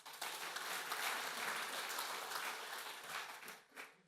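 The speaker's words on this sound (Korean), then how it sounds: "은혜로운 말씀을 전해주신 목사님께 감사 박수 드리겠습니다." A men's fellowship gathering at a Korean church applauds in thanks to the pastor after his sermon, a continuous round of clapping that swells early, holds steady, then tapers with a small final flutter.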